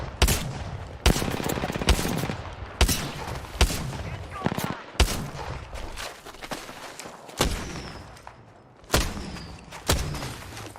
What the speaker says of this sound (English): These enemies are shooting at me.